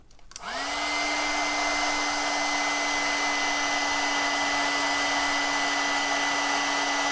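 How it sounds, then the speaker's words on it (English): A heat embossing tool blows hot air in a steady, loud whir with a high whine, starting up abruptly and holding constant, like a hair dryer, while melting embossing powder on a handmade card. "Just takes a minute for the heat tool to warm up"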